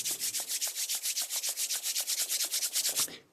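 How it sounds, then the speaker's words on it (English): Someone briskly rubs both hands together to warm them, about twenty quick, even strokes of dry skin friction, close and alone, ending after roughly three seconds. "which I do by rubbing my hands till they get a little warm"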